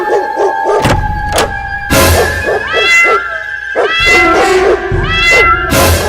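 Loud high meows from many kittens overlap in a busy jumble, with repeated sharp cries alongside tonal background sounds.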